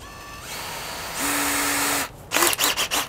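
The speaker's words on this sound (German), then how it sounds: "Okay, also wieder mit der Bohrmaschine." Electric drill pre-drilling a hole while building a wooden hunting shooting stick, a steady whine that shifts pitch, then several short bursts of the motor revving and stopping.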